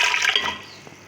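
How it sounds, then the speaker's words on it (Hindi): Water poured from a glass into a pressure cooker holding mutton for yakhni, a short close splashing pour that fades after about half a second. "2 से 3 गिलास मैं इसमें पानी के ऐड करूँगी।"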